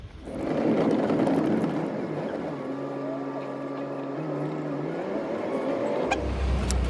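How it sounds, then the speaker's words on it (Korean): A tour bus near Mont-Saint-Michel pulls away, its engine rising into a steady drone with shifting tones that climb and then level off. The sound is close and continuous, with no voices. "버스 타고 이제 출발을 해 봅시다"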